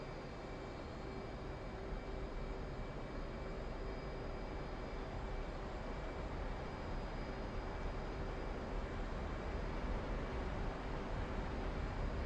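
Steady, dense jet engine roar of an aircraft taking off in the DCS World flight simulator during a Grayflag Syria multiplayer session, loud and unbroken throughout with a faint high whine riding on top.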